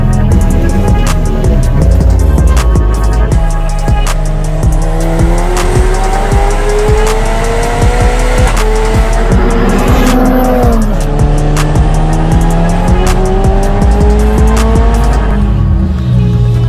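A Mitsubishi Evo 9 drift car built for competition roars with a loud, high-revving engine rising and falling through gear changes, while sustained tire squeal and skidding run throughout.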